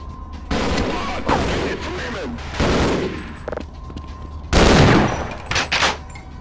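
Bursts of gunfire in the video game Half-Life, including shotgun blasts, come in several loud separate volleys with short gaps between them.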